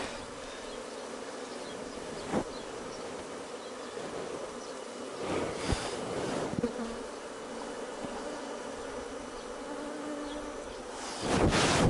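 Honeybees hum in a dense, continuous drone close by at an open hive during queen marking, with a few louder buzzes as individual bees pass near.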